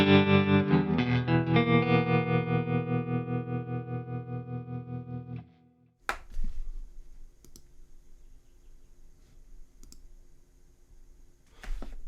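An electric guitar chord rings through a Fractal FM3 modeler on a Plexi preset with a pulsing tremolo, fading out after a few seconds, followed by sparse clicks of knobs and buttons being adjusted.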